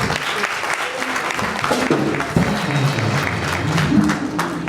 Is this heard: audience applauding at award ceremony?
yes